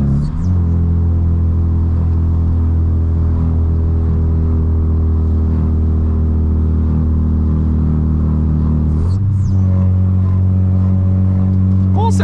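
Corsa GSI 1.6 16V revving hard while climbing a mountain road, loud engine drone held steady with rising pitch, then a sharp drop and shift around nine seconds before pulling again.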